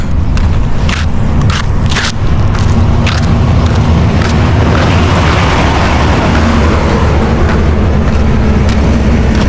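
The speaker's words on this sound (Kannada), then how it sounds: "ಒಂದು ಬೈಕ್ ಬರ್ತಾಯಿದೆ, ಆ ಬೈಕರ್ನ ಕೇಳೋಣ" A motorcycle passes along highway NH 44, a loud roaring engine with strong low rumble and wind buffeting, close and continuous for several seconds.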